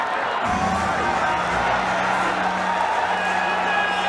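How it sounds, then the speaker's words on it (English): A large arena crowd at a world title fight in Yangon roars and cheers continuously, a loud dense wall of shouting and whooping with a commentator talking over it. "This crowd in Yangon, and I'm sure around the world, loving every moment of this world title match."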